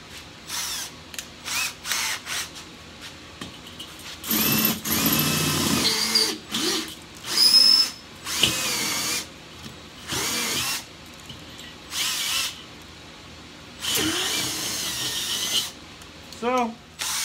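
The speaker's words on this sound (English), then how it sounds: "So we're going to drill this out." A power drill whirs in repeated bursts, biting and grinding through the metal of a Weber Performer grill's kettle bowl, with a person talking between runs close by.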